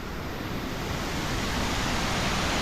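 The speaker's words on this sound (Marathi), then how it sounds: "डॅमचं हे पाणी सोडले आणि एक्झॅक्टली अंब्रेला टाईप शेप आहे त्याच्यामुळे याला म्हणतात अंब्रेला वॉटरफॉल" Umbrella Waterfall at Bhandardara, where dam water is released and spreads in an umbrella shape, roars as a steady, dense wash of rushing water that is loud, continuous and unbroken, with no voices.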